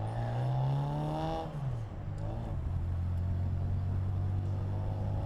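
A Bugeye Sprite's small engine revs up and then drops back in pitch, a loud close whining rumble that settles into a steady lower drone.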